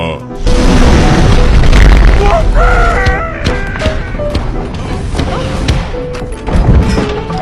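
A loud, booming fart sound effect with a low rumbling blast and some warbling tones, followed by quieter thumps and rattles.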